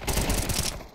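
Rapid automatic gunfire from Counter-Strike 2 gameplay, a loud, dense burst of shots lasting about a second before cutting off abruptly.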